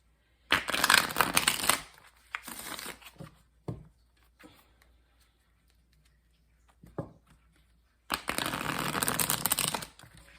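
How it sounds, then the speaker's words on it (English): Cards being pulled and shuffled from a Spirit Animal Oracle deck during a tarot reading, heard as bursts of papery riffling and slapping: a long flurry at the start, a few short taps in the middle, then another sustained shuffle near the end. "I am pulling a card for each row"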